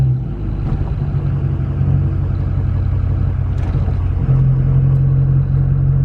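A truck fitted with a 5-inch Diamond Eye exhaust pulls off the end of a driveway, its engine a loud, steady low drone heard close up with a deep droning hum that strengthens toward the end.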